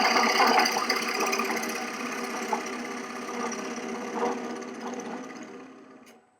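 A woodturning gouge cuts a wooden bowl spinning on a lathe, giving a continuous close whirring scrape with a faint rhythmic flutter that fades out toward the end.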